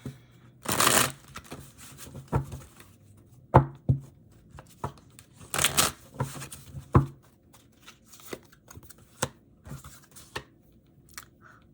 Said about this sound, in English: Let me pull a card for that.